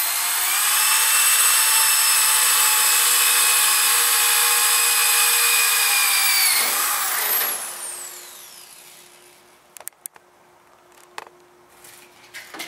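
A Strong Arm 5 portable drill press drills steadily with a loud, even whine, then spins down and stops, leaving faint clanks and knocks in the quiet.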